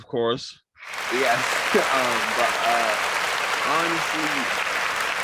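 Loud, sustained applause from a podcast audience fills nearly the whole stretch after a brief opening, with a couple of voices speaking briefly over the clapping.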